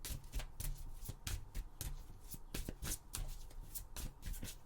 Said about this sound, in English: I'll go ahead and start shuffling the cards and pulling the cards